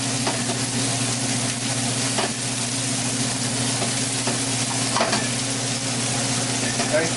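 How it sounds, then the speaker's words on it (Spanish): Garlic and onion brown in a pan for a white bean and mushroom soup, giving a loud, steady, close sizzle with faint stirring sounds throughout and no talking. "el ajo y la cebolla, vamos a dorar un poco"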